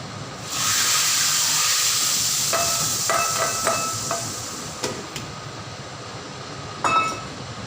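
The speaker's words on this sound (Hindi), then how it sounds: "तो बस अब यहाँ जो है मैं लगा दूँगी तड़का।" Steady hiss of hot oil sizzling, with a few sharp crackles and pops as spices hit the pan for a tempering on dal, continuing throughout without talk.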